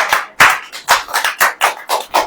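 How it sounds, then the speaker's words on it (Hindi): A Hindi Christian congregation claps together in a steady, brisk rhythm, about eight loud, close claps in two seconds with no talking over them. "ताली बजाओ।"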